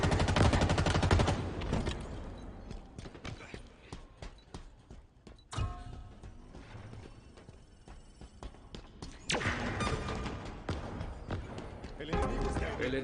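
Gunfire in a Halo Infinite multiplayer match: dense bursts of shots and rapid automatic fire rattle loudly through the clip, with a sharp blast near the middle and renewed heavy firing toward the end, mixed with game voice announcements.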